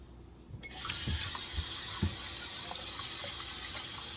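Running tap water gushes steadily into a sink after a quiet start, with a few soft knocks and splashes as neck bones are rinsed.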